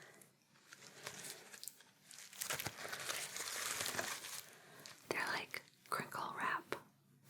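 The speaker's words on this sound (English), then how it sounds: "I have 2 pieces of crinkle wrap" Two pieces of crinkly plastic wrap rustling and crinkling close up in a quiet ASMR spa setting, bursts of crisp crackle swelling and fading with brief pauses between handlings.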